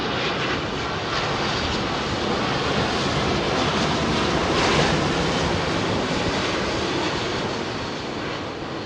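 A Kenya Airways airliner on approach to London Heathrow's runway 27L, heard as a loud, steady broadband jet roar with airflow noise that swells slightly toward the middle and holds throughout.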